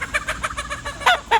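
A steady run of backyard hens clucking close by, the repeated calls falling into an even rhythm before two louder, sharper clucks near the end.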